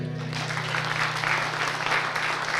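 Sustained applause from an audience, dense clapping throughout, with a low steady hum underneath.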